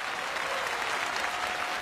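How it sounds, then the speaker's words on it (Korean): Studio audience at a Korean quiz show breaks into steady, dense applause for four finalists, a continuous wash of clapping with no voices on top. "네 분께 다시 한번 박수 부탁드립니다"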